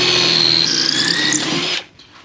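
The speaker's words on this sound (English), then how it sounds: "we're gonna take and drill right through everything" A power drill whines and squeals loudly while boring through a stack of wood in a workshop, then cuts off abruptly, leaving near silence.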